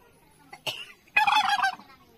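A turkey gobbles nearby: a short clipped call, then after a brief pause a louder, longer rattling gobble, with quiet surroundings.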